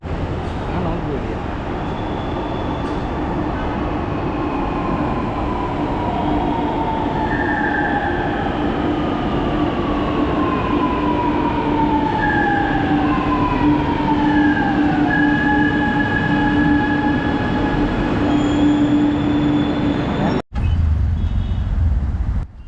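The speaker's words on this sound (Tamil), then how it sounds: "திருமங்கலம் போகிறதுக்கு மெட்ரோக்குள்ளேயே 2 ட்ரெயினை மாறி மாறி ஏறணும்." Riding inside a Chennai metro train: a loud, steady rumble of wheels and motors with rising and falling whines, ending in a sudden cut and brief change in the noise.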